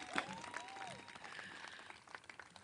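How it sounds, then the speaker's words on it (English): Graduation ceremony audience applauding at Academic City University, a brief, fairly faint patter of clapping with a cheer near the start that fades out quickly. "A round of applause one more time."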